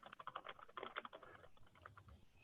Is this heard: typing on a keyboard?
yes